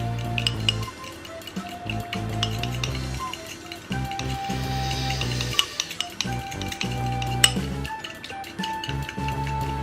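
A utensil stirs and mixes food in a bowl or pan, repeated clinking and scraping strokes over a faint sizzle for about ten seconds, like eggs being beaten, with no talk.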